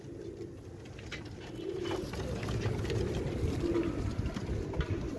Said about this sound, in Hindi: ये देखो दोस्तों संदूरी पलकों के कबूतर आपको दिखा दूं शो